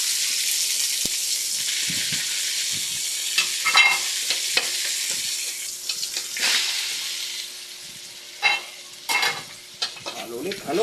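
Garlic and then onion fry in a pan for Filipino pakbet with pork, a bright continuous sizzle overlaid by repeated spatula scrapes and clatters that grow busier toward the end.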